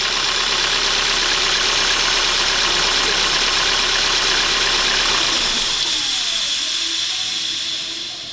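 A petrol car engine idles steadily, its throttle flap stuck shut and choking off air, then is switched off near the end as the broadband noise drops away and the engine winds down to quiet.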